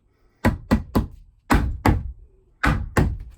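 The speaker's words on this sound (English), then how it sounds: "I wasn't expecting the hammering." Hammer blows during home rebuilding construction land as seven sharp, solid knocks in three quick bursts, close and fairly loud with short silences between groups.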